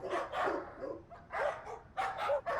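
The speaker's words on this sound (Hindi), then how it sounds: "इतने क्यों भोग रहे कुत्ते?" Dogs bark in a residential housing society at night, about five clear, fairly close barks in uneven bursts.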